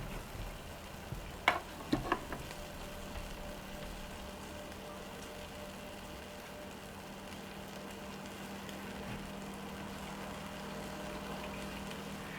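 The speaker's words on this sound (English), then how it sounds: "So we have our pancetta sauteing up over there." Pancetta sautés in a pan for braised long ribs, a quiet steady sizzle with a few sharp clinks early on and a low background hum, no talking.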